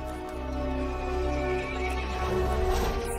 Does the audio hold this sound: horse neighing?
yes